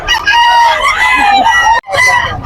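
Roosters crow loudly and nearby at a pet market in Bocaue, one long call after another, with clucking and faint background voices underneath.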